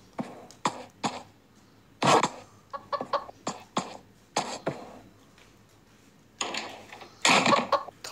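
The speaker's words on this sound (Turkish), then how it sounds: "Bu tavuk ya Mr. C ya da Rostov." A chicken in the Evil Nun video game clucks in scattered short, abrupt bursts with quiet gaps between, close and fairly loud, growing busier toward the end.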